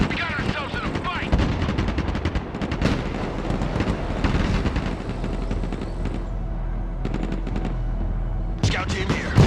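Dense gunfire in a firefight in the war game Broken Arrow, rapid overlapping machine-gun bursts and single shots with booming impacts, loud and nearly continuous, under shouted voices.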